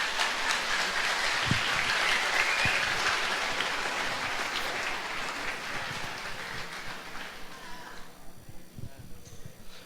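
A church congregation applauding at a teen gathering, dense sustained clapping that slowly thins and fades toward the end.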